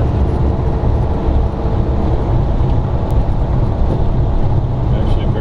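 A 1933 Ford 3W coupe hot rod cruising on a highway at about 60 mph gives a steady, loud low rumble of engine and road noise that holds constant throughout.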